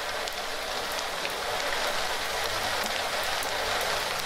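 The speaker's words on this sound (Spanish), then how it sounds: "Está cayendo una lluvia de aquí, imponente, hermosísima." Heavy rain and hail pour down steadily outdoors, a dense, loud, unbroken hiss of drops and pellets striking surfaces close by.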